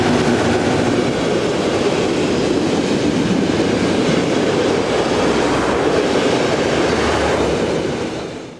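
Locomotive 3618 hauls a return train of empty steel wagons from Longwy toward Belval-Usine, a loud, continuous rumble and roar of rolling stock passing close, tapering off right at the end.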